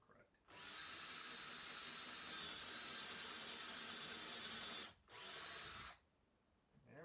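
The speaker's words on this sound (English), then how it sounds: "Now I can't drill all the way through the bottom board" A power drill whines loudly and steadily for several seconds while drilling into the wooden boards of a rotted picnic table, briefly pausing before a second short burst, then stopping.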